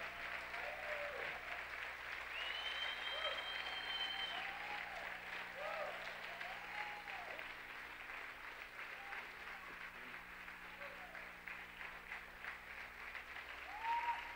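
At an apostolic church gathering, a congregation's continuous, even applause fills the room like a dense rushing patter, slightly distant and unbroken, with no voices standing out.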